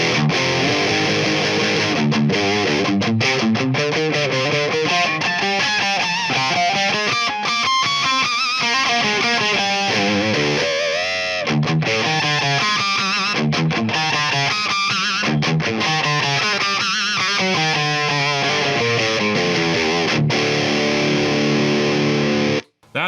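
Electric guitar through a DOD 250 overdrive pedal fitted with a test op amp and the drive turned all the way up, playing loud, continuous, heavily distorted chords and notes for about twenty seconds before cutting off abruptly.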